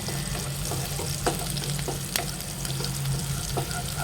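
Green chillies fry in a pan for sabudana paratha, a steady close sizzle with occasional soft stirring clinks.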